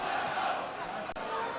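A football crowd at Home Park for a 1997/98 Plymouth Argyle versus Fulham match roars and chants in a steady, loud wash of massed voices, with a commentator's voice faintly mixed in.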